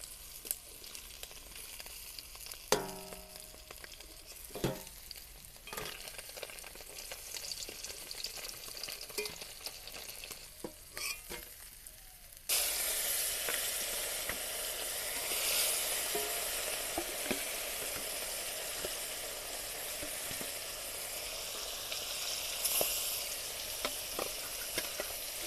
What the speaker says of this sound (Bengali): মাছগুলো ভালোভাবে ভেজে নিয়েছি